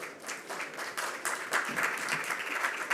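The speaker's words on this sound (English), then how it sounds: "We can have a round of applause," A conference audience claps for about three seconds, a dense, steady burst of applause with no voices over it.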